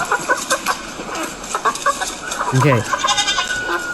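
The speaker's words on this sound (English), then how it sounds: "AI says that's just a tired chicken" A tired chicken clucks in a few soft, uneven bursts, with a brief louder squawk near the middle, and a person says a single word over it.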